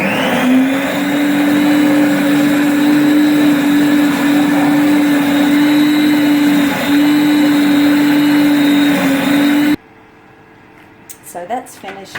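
A ThermoCook Pro M 2.0 kitchen machine blends hummus at speed 8: a loud, steady motor whir with a strong tonal hum runs continuously for about ten seconds, then cuts off, leaving quiet room sound and a few faint clicks.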